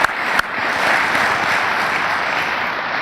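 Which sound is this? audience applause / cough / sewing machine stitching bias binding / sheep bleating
audience applause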